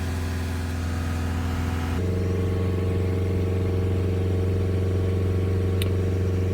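A Land Rover Discovery Sport engine being checked for a blocked DPF holds steady just under 3,000 rpm, a constant close drone with a slight shift in pitch early on, with no talk.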